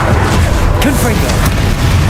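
A Confringo fire spell explodes in Hogwarts Legacy, a dense rumbling boom with crackling bursts that sustains loudly through the whole moment, with voices shouting spell names around it.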